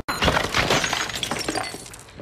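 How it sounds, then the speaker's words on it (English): Glass breaks and shatters in a loud, sustained, crashing burst. Bright shards keep tinkling and scattering for about two seconds after the first impact. No voices are heard. "What broke? Stupid glass."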